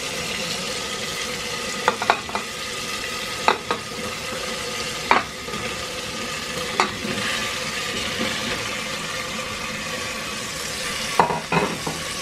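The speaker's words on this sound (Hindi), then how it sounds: "अब हम इसमें गोभी और आलू डाल देंगे।" Cauliflower and potatoes stirred into a hot masala for aloo gobi, a steady sizzle of frying under repeated scraping stirs with a few sharp clinks, close and fairly loud, no voices.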